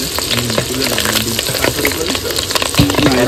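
Tangra fish frying in hot oil give a steady, loud sizzle with scraping stir strokes and brief clinks, continuous throughout.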